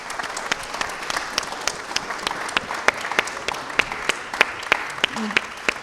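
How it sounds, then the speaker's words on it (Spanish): Audience applause closing a history talk event, a moderate crowd clapping with distinct sharp individual claps standing out over a steady patter. "Bien, un fuerte aplauso,"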